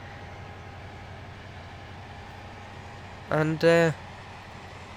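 A Connect train with a Class 68 runs in the Roblox game Stepford County Railway, a steady low rail rumble and hum throughout, with a short burst of speech near the end.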